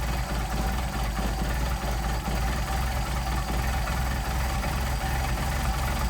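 A Mercedes 190SL with Solex carburetors idles steadily, a low continuous engine rumble with a faint mechanical knock, close and unbroken throughout.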